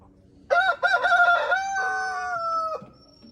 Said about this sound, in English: I was talking to them, Mr. Rooster.